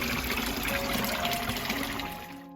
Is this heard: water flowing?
yes